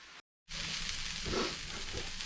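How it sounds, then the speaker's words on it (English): Steady sizzling of red peppers and onions stir-frying in a hot pan, a continuous bright hiss after a brief silent gap, with no talking. "my red peppers and onions are sort of stir frying up really good"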